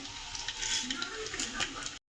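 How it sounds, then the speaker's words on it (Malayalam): Mustard seeds spluttering and popping in hot coconut oil in a pan while cooking a Kerala-style curry, a steady close crackling sizzle with scattered sharper pops throughout, no talking. "എണ്ണ ചൂടായി വന്നിട്ടുണ്ട് ഇതിലേക്ക് കടുക് ഇട്ട് കൊടുക്കാവേ"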